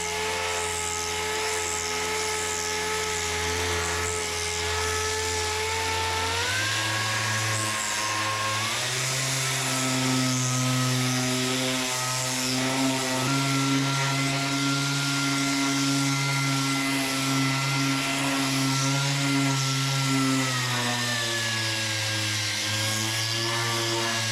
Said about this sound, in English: after some sanding, we got the grill done